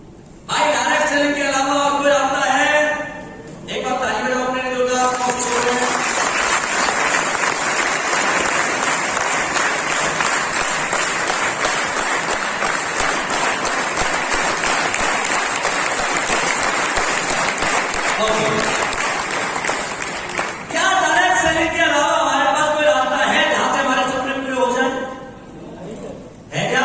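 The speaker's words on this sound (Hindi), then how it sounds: "एक बार ताली बजाओ" Audience applause fills a direct-selling training session in a hall, a loud sustained burst of clapping running about fifteen seconds between stretches of a speaker talking over a microphone.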